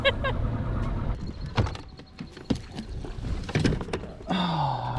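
A bass-fishing motorboat's engine drones steadily on Lake Erie, with splashing and knocks over the continuous hum and a rising whine near the end.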